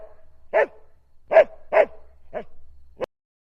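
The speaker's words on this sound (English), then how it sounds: "Dog." A dog barks in five sharp, separate woofs spread over a few seconds, close and clear, with quiet gaps between them and a faint low hum underneath.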